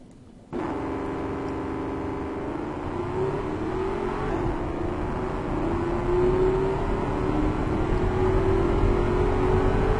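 A big V8 car engine with long gearing and no mufflers, in the racing game Automation, rises steadily in pitch and loudness as it revs, a loud, deep drone that starts abruptly and builds over ten seconds.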